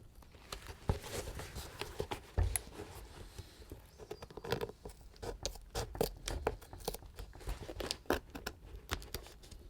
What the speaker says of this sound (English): now we're kind of ripping the glue off our shoe here